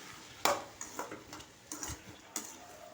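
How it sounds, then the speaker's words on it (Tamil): Tomato thokku stirred and sautéed in a pan, with a spoon scraping and clinking against the metal in a few sharp, irregular knocks over a soft, quiet sizzle. "நல்லா வதக்கி விட்டுக்கணும்"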